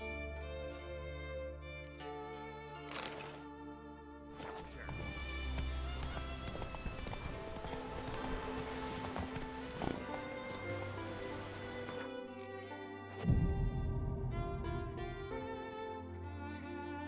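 Horse galloping in The Witcher 3 video game, with rhythmic hoofbeats running under a thick layer of game music and ambience, fairly faint and continuous, with a louder burst near the end.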